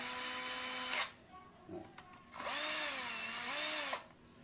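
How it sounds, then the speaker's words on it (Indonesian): A power tool tightens screws crosswise on an AVR C300 voltage regulator, with two steady whirring bursts and a brief clatter between them, close and fairly loud with no talk. "Kita mengencangkannya bersilang teman-teman, agar tidak terjadi selek ya."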